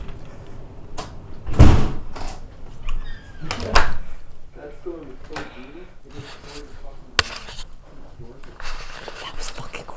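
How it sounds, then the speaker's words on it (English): A storm door bangs in a strong wind storm, with a couple of loud, sharp slams standing out over gusty rumbling, while people talk nearby. "The storm door."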